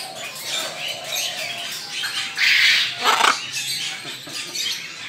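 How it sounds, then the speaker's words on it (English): Macaws in a bird house give harsh, bright squawks: a broad burst of calls midway, then a sharper, louder squawk a moment later, all over a steady murmur of background bird chatter. "we got some macaws over here"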